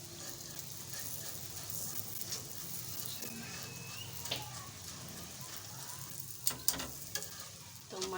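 A paratha cooks in a pan for a zinger paratha roll, giving a soft, steady sizzle with occasional sharp taps and scrapes near the end, close but quiet, with no talking.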